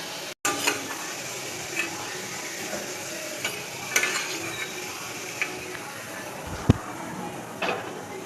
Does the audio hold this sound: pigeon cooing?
no